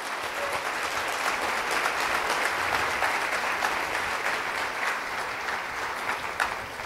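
A church congregation claps loudly for the Lord at a Spanish-language service, dense steady applause filling the whole stretch at close range without letup.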